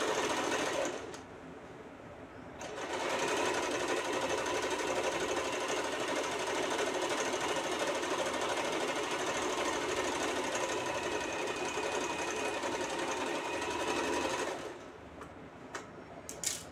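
A sewing machine stitches seams on a kaftan kurti, whirring steadily up close for most of the stretch, with brief stops and restarts near the beginning and end.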